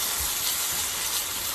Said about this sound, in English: And I'm just frying up some bell peppers.